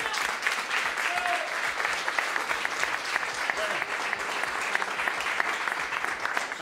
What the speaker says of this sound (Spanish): Vamos, un aplauso entonces.